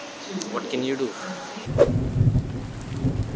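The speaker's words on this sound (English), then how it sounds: "There's a lot of rain. I'm pretty sure you can hear it." Heavy rain at a metro station, a dense rumbling wash that swells after a sudden cut midway, with a person speaking briefly over it.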